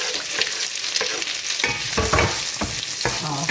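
Onions sautéing in a frying pan, a continuous loud sizzle broken by repeated scraping and stirring strokes, close up with no talking.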